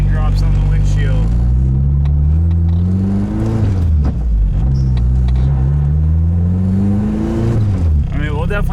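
A turbocharged K24 engine in a Nissan Cefiro pulls hard through a long steady acceleration in fourth gear, pitch climbing, easing briefly, then climbing again, loud and close from inside the cabin.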